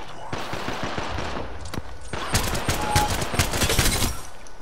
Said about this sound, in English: The guys behind us are shooting at the guys in front of us.